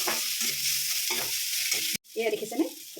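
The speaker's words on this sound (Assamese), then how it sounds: "আদা দি পেলাই একেলগে দি থোৱা নিজাই ভাজি দিব" Onion, garlic and ginger fry in a pan with steady close sizzling, broken by a few bursts of stirring and a brief pause near the end before the frying noise returns.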